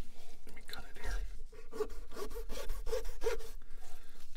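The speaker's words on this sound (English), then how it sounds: "Just like sawing a cadaver." A saw rasps back and forth in rhythmic close strokes during a mock alien autopsy ASMR scene, with clamps holding the prop, while a voice talks softly under the sawing.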